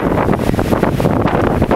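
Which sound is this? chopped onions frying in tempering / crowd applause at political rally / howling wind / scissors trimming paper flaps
howling wind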